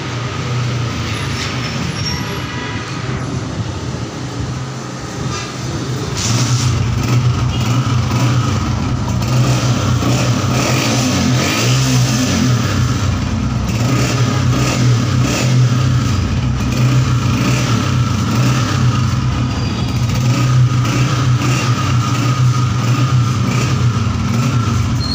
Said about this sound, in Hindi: ये भी आपको बाइक स्टार्ट करके दिखाते हैं